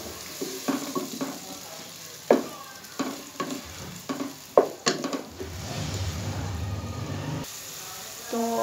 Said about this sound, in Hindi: तो प्याज को अच्छे तरीके से मैं हल्का हल्का ब्राउन कर लूँगी।